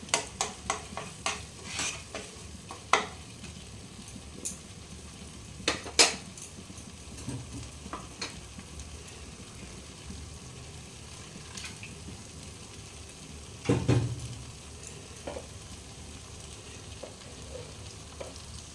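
Chana masala with chickpeas cooking down in a pan, a soft ongoing sizzle punctuated by sharp irregular clanks and scrapes of a spoon against the metal, louder bursts of stirring near the start and later on.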